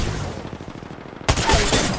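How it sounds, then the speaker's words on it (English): Dense, rapid gunfire fills an Apex Legends match, a glitched background barrage that rattles steadily and then jumps sharply louder partway through, continuing as a heavy close burst. "That gun shooting in the background is actually an audio bug, meaning it's hard for him to hear."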